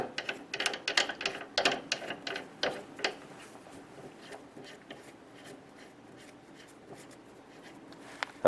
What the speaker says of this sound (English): Let me screw it in.